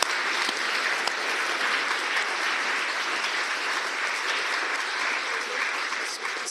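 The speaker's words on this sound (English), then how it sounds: "So one last round of applause for everybody." An audience at an International Women's Day evening event gives a final round of applause, a dense, even wash of many hands clapping that holds steady at moderate loudness for several seconds before easing slightly at the end.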